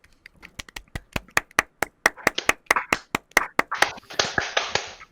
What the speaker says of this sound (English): just a quick round of applause for everyone